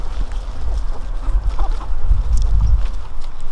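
Backyard hens cluck low and intermittently close by while pecking at a large garden radish, with steady rustling beneath.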